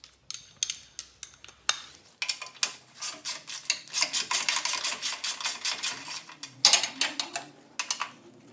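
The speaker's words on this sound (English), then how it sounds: "This one has 2 bolts there, so we're gonna go ahead and remove those." A hand ratchet removes two bolts from the KDSS plate of a 2018 Toyota 4Runner, giving bursts of close, crisp clicking with short pauses between turns.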